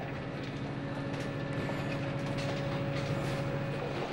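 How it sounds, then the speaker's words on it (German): Deutsche Bahn track renewal train, a huge work train crossing from old rails onto new ones, rumbling steadily and close with continuous rolling noise and a faint tonal hum, no voices. "Während der vordere Teil des Zuges noch über die alten Schienen rollt, fährt der hintere bereits auf den neuen."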